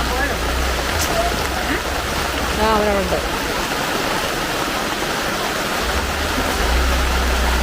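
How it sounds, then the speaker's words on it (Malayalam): Sudden heavy rain pours down as a steady broadband hiss throughout, loud and close. A brief voice speaks over it and a few faint bird-like chirps rise partway through. "എന്റെ പൊന്നമ്മ കിടുക്ക മഴ. പെട്ടെന്ന് ഒരു മഴ പെയ്തു."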